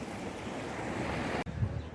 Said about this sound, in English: this water lapping at my feet